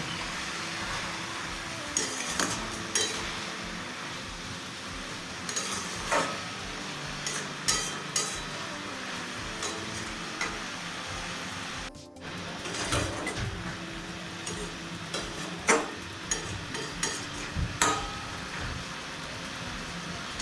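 Jute leaves being stirred in a pan with salt, turmeric and sugar, with repeated soft scraping and tapping knocks of a spoon against the pan, fairly quiet and continuous.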